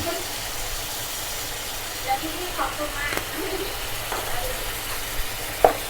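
Liver stir-fried in a pan with seasoning, light soy sauce and oyster sauce makes a steady frying hiss, with faint scrapes and a few knocks of the spatula close by.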